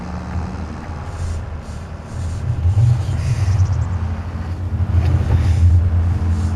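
A tractor engine straining in Farming Simulator 25, a low rumbling drone that swells louder under load and holds a heavy, labored tone, close and continuous with no talking.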